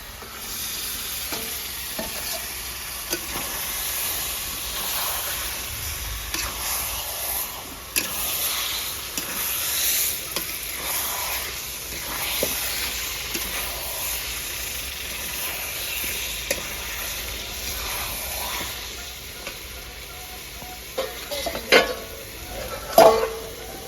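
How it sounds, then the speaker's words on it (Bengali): Marinated chicken poured into hot fried masala gravy in a village clay-oven biryani pot, with steady sizzling and frying hiss, scraping stir strokes and occasional pot clatter, louder near the end, with no talking. "এবার আমি ম্যারিনেশন করা মুরগির মাংসটা ঢেলে দেবো।"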